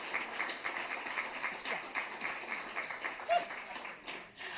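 Audience at a public rent control meeting in Santa Monica applauding, a steady wash of many hands clapping at moderate level throughout, with a brief dip near the end.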